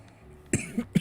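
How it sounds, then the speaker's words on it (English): One big, wet cough up close, followed by a couple of smaller coughs and throat noises, all within about half a second. "Oh, it's a big cough."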